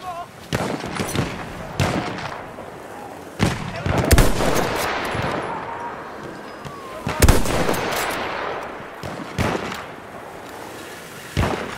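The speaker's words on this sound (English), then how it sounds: "Enemy machine gun over there!" Battlefield 1 gunfire crackles in repeated sharp bursts of shots and machine-gun fire, some loud and near, others more distant, spread unevenly through a busy battle soundscape with occasional shouted voices.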